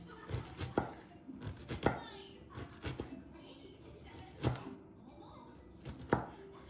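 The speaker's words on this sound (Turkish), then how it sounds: "Şöyle soğanlarımızı doğradık." A knife chops onions on a board in scattered, uneven strokes, with soft rustling and faint background voices underneath.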